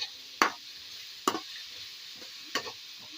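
Onions sautéing in a pan for a beef roast, a soft background sizzle broken by three sharp scraping stirs of a spatula against the pan.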